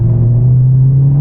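Mercedes CLA45 AMG engine giving off a loud, steady low rumble from close by, a continuous deep droning tone with no talking over it.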